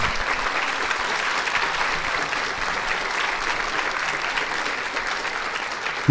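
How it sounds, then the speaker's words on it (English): A crowd at the 2006 Hopkins Raspberry Festival Junior Coronation gives sustained, even applause. It stays loud and steady from start to finish and ends with a sudden thump. "Let's give him a round of applause."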